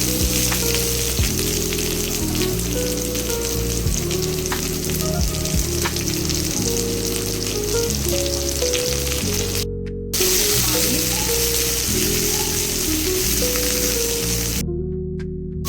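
Loud, steady sizzling of chopped onions frying in a pan, continuous throughout with occasional stirring and a faint voice in the background.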